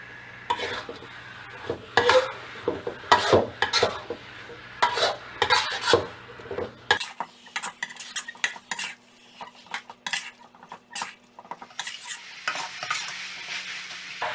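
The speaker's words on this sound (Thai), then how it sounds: "จากนั้นก็ใส่เนื้อหมูลงไปค่ะ ผัดคลุกเคล้าให้เข้ากันจนกระทั่งหมูสุกเลยนะคะ" Pork belly with shrimp paste is stir-fried in a pan, with repeated loud scrapes and clinks of a utensil against the metal over a steady sizzle, in irregular bursts that continue throughout with no one speaking.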